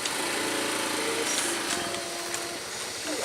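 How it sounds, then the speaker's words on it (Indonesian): A small engine runs steadily at a constant buzzing pitch on a trip in Aceh Barat, fairly close and continuous, with faint outdoor background noise. "Mesin."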